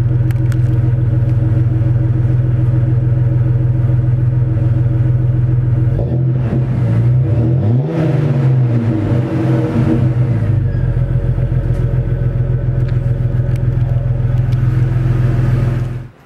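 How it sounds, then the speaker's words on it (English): A Jeep Cherokee XJ with a Flowmaster exhaust idles with a deep steady rumble, then revs up in a swelling burst around the middle before settling back to a loud, even idle. "here's just a sample of that Flowmaster exhaust"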